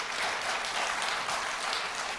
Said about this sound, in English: please refrain from applause